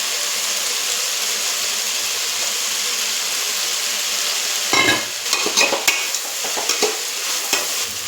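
Soaked beans and peas with potato and carrot go into hot oil in a pan. A soft steady sizzle comes first, then bursts of louder frying crackle and scraping stirs in an uneven rhythm.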